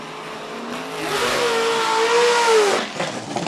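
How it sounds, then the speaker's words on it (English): A Nissan 350Z fitted with an LS V8 revs hard at the start line of the Cape Town Speed Classic hillclimb, its loud engine note rising and sweeping over a few seconds before easing off, with no talking. "the Nissan 350Z powered by an LS V8"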